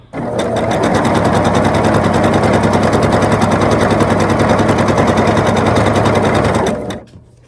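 A sewing machine stitches quilt block fabric in one loud, rapid, continuous run that lasts about seven seconds and then stops.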